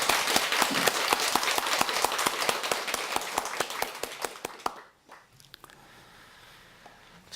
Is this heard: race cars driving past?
no